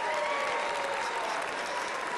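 An audience at a comedy theater in Tennessee breaks into a big round of applause for three volunteers, a broad, even roar of clapping from a full room, steady and sustained with a faint tonal hum beneath.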